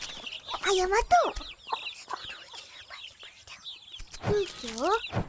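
Chickens cluck and squawk up close in several rising bursts, with soft rustling and quiet background noise between the calls.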